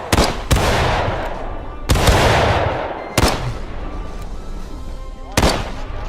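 Civil War rifles fire in a War of Rights battle, with four loud, sharp shots spread unevenly, each trailing a long booming echo.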